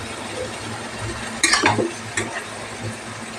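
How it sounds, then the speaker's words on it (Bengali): Four prawns fry in a pan with a continuous low sizzle and a sudden louder crackling burst as they hit the hot oil, then a smaller flare-up. "4টে চিংড়ি মাছ দিলাম। এবার এটাকে একটু ভেজে নেব"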